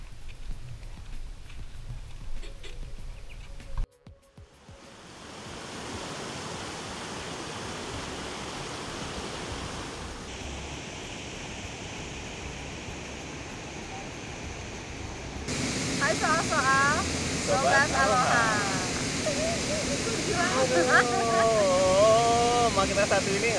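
A river, the Tukad Unda in Klungkung, Bali, flows with a steady broadband rush for most of the stretch, swelling louder near the end, while people talk intermittently over the water.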